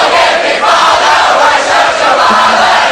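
A German concert crowd at a rock show roars and cheers in a dense, steady wall of noise that holds loud and unbroken throughout.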